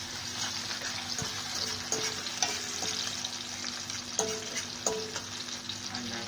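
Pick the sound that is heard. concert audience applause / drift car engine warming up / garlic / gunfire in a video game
garlic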